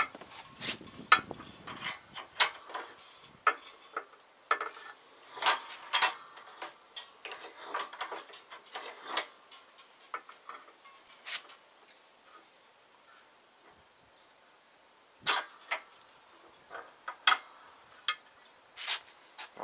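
An old bench vise is cranked to press a control arm bushing in on a MK4 Jetta/Golf, giving intermittent ratcheting clicks and metallic creaks in bursts, fairly close with quiet gaps between and no talk.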